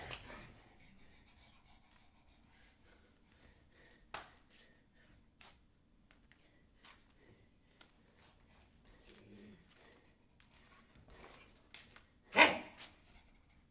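A dog pants and breathes softly, with scattered sniffs and a few sharp isolated sounds, one louder bark-like burst near the end, in an otherwise quiet setting.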